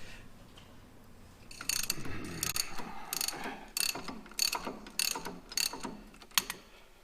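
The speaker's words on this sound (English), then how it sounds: "ratchet with an extension, something with a little leverage, because sometimes these can be pretty tight." A ratchet with an extension works on a tight Jeep front brake bolt, giving a run of sharp, rapid clicking bursts in quick succession, close and clear.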